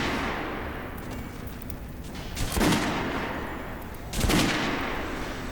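Gunfire at a shooting range in the video game Metro Last Light Redux: two sharp shots ring out a couple of seconds apart over a low, steady background rumble.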